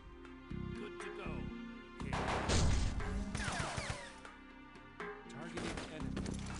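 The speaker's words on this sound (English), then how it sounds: "All of you, keep shooting." Squad gunfire crackles in the tactical game UFO: Aftershock, with bursts of shots and impacts swelling into a denser volley midway, while someone talks over the shooting throughout.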